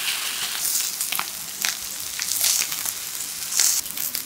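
Tuna and rice pancake batter sizzles and crackles steadily in a hot oiled pan, with scattered louder pops and spits over a continuous frying hiss, close and fairly loud, with no talking.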